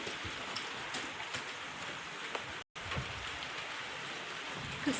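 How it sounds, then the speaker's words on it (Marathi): Rain falling over village farmland, a steady, even hiss of drops heard at moderate distance with a brief dropout partway through and no voices. "वरून पाऊस येतोय"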